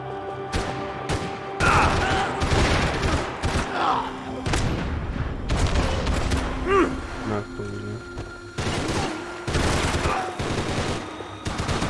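Shotgun fire in the action video game Max Payne 3, heavy blasts repeating irregularly through a dense gunfight with other gunfire and impacts, while someone talks over the action.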